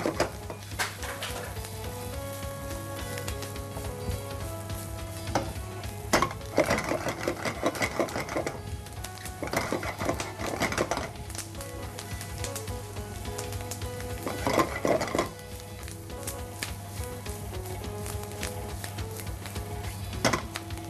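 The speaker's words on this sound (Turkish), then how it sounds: "Sebzelerimiz yeterince sötelendikten sonra mantarımızı da ilave yapıyoruz." Vegetables and mushrooms sauté in a pan with a steady, moderate sizzle, broken by several louder scraping bursts of stirring spread across the stretch.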